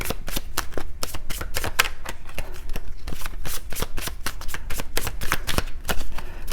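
Lenormand cards shuffle continuously, a dense run of rapid crisp riffles and slaps, close and fairly loud, with no talk over it.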